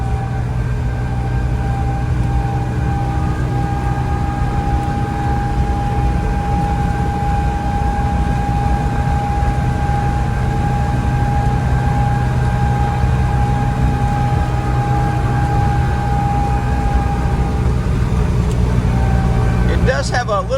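A 1976 Austrian-built Pinzgauer 712M Swiss Army vehicle drones steadily as it drives off-road through a forest, with a loud, constant engine and cabin rumble that carries a whining tone throughout, heard from inside the cab.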